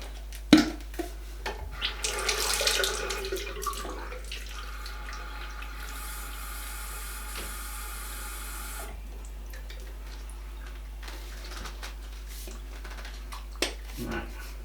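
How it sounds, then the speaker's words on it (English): Running tap water splashes briefly into a portable water flosser reservoir, a soft rushing hiss that swells for a few seconds then gives way to quiet room noise and faint clicks. "Just going to fill it up with water and have a little play with it."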